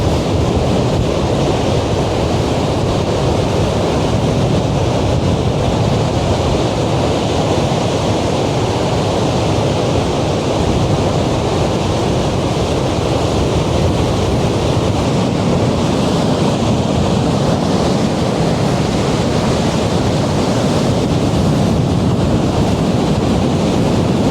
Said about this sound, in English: No wonder this is a great beach for surfing.